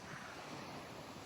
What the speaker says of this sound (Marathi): लाटा